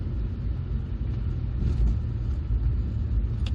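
A 2003 MG ZR 160 drives along winding roads in Derbyshire, heard as a steady low cabin rumble of engine and tyres with slight swells in revs and no speech.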